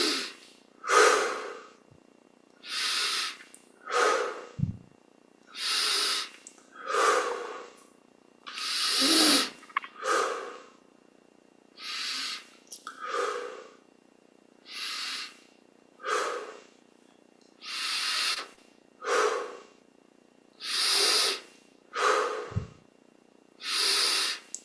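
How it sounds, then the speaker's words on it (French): Slow, deep breaths during a Yogoda meditation practice, about twenty measured inhales and exhales in a steady rhythm, close and fairly quiet, with no talking. "20 respirations profondes."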